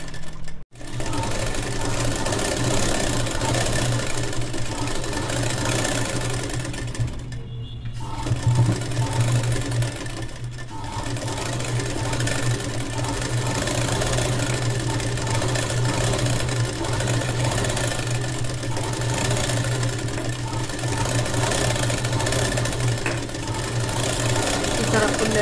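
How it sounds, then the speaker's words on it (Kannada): A domestic sewing machine runs a long steady stitching pass along the border of a long gown, close and continuous, with one brief pause and a short restart, its motor hum and needle chatter filling the clip. "ಬಾರ್ಡರ್ ಮೇಲೆ ಸ್ಟಿಚ್ಚನ್ನು ಹಾಕೊಂಬಿಡಿ"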